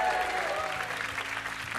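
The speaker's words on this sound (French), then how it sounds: "Applaudissements pour Valérie et Nathalie." A studio audience on a French TV singing game show applauds contestants Valérie and Nathalie, a continuous, even roar of many hands clapping throughout this short stretch, with no talk over it.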